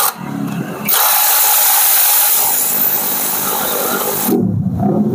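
Impact wrench with a 24 mm socket tightening the wheel nut on a Yamaha Mio scooter during a gear-ratio swap, a loud continuous whirring burst of about three and a half seconds, close by, with short quieter handling noises before and after.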